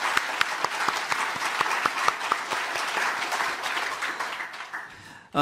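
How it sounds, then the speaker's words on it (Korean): A church congregation in a sanctuary claps steadily for several seconds during a Sunday service, the applause fading near the end before a voice begins. "이 시간 우리가 좀 예배당 안에서 큰 박수로 격려하면 그분들이 위로가 될 것 같습니다"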